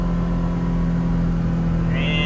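A Polaris Xpedition UTV engine runs steadily at about 27 mph in below-freezing weather, a constant loud drone with a strong low hum from inside the cab.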